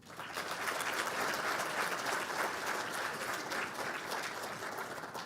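Steady, dense audience applause at a live Solar Decathlon event, a large crowd clapping continuously at an even level throughout with no talk over it.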